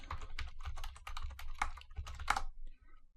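Fingers type on a computer keyboard in a terminal, a close burst of quick, uneven key clicks that stops abruptly near the end, with no talk.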